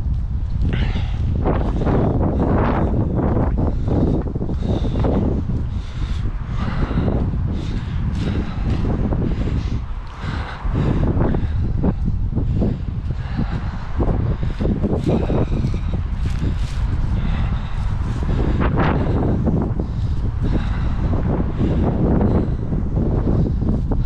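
Strong wind batters an abandoned school and the microphone, producing a loud continuous roaring buffet with gusty surges throughout.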